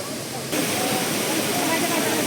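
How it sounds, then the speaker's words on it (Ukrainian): The Shypit waterfall in western Ukraine roars as a constant, dense broadband rush of falling water, steady and close, swelling slightly after the opening half second, with no other sounds standing out. "оце справжній природний водоспад"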